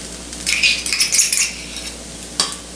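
Tuna and mayonnaise being mixed in a bowl: a string of scraping, clinking utensil strokes against the bowl, fairly close, in bursts followed by a pause and one more clink.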